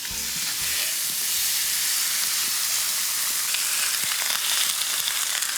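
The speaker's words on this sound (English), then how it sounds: "While the meat sizzles away" A steak with its fat cut sizzles steadily in a pan in Florence, a loud, continuous hissing fry with small crackles and no voices.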